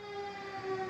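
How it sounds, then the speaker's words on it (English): A wailing emergency siren sounds steadily and fairly loud throughout, its tone sliding slightly, with no speech over it. "Every time a siren rings,"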